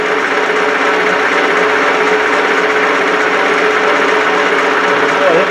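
A lathe runs at a steady speed in a workshop, making a loud, constant mechanical drone with a faint tonal hum and no clear breaks.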